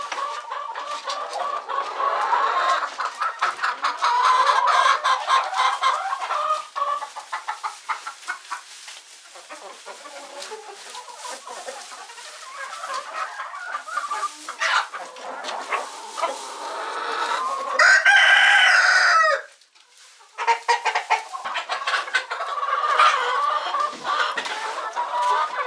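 Chickens cluck steadily inside a chicken house full of eggs, with a rooster crowing loudly near the end; the busy flock noise runs continuously at close range.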